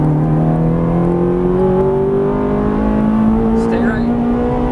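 Ferrari 430 engine on a race track revs under throttle, its pitch climbing then settling into a loud steady whine, while a driving coach talks over it.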